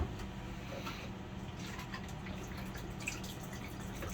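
Water rinses out a bleach bottle in a steady, continuous splashing and trickling wash that runs close by without a break, with no talk.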